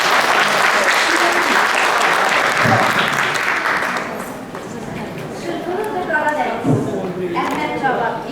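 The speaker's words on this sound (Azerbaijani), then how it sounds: "Gəlin alqışlayalım." Audience at an event in the National Museum of Azerbaijan History breaking into loud, dense applause that fades over several seconds, with voices speaking over it toward the end.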